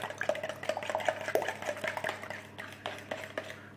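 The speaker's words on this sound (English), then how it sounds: "Give it a good whisk up." A whisk beats eggs and milk in a jug for a moussaka topping, with quick repeated rhythmic clinks and liquid sloshing heard close up throughout.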